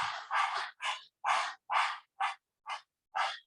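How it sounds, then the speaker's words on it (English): A person doing yogic breathing, panting out through the mouth like a dog in a steady series of eight short, forceful breathy exhalations separated by brief pauses, close and clear. "you're gonna be breathing out through the mouth, kind of like a dog panting"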